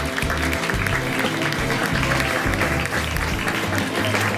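An audience applauds Inna Sumariuk, sustained clapping from a crowd at a moderate distance, steady throughout with some voices mixed in.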